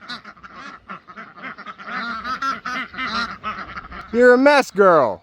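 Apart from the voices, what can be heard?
ducks quacking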